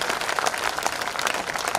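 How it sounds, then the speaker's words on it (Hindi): An audience at a Hindi poetry recital (kavi sammelan) in Udaipur claps loudly and continuously, a dense crowd applause with no talk over it. "एक बार जरा अपने दोनों हाथ हवा में उठाकर जोरदार तालियां बजाकर अपना"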